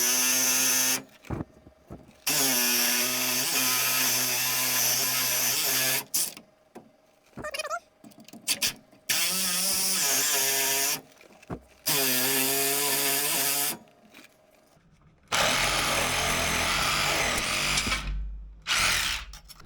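Power saw with a long blade cuts through a leaf spring bolt on a vehicle, a loud close whine running in several long sustained bursts broken by short pauses, the last stretch rougher and noisier.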